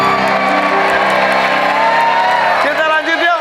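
A game show studio audience cheering and whooping for two competing teams, a dense, loud crowd roar sustained throughout.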